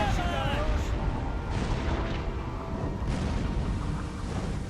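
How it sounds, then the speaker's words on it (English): Ship cannons fire during a naval battle in the strategy game Imperial Glory, making rumbling booms and rolling blasts over a noisy battle backdrop. A voice seems to talk underneath the gunfire. "we can start changing to the actual cannon shot. Slaughtering the enemy."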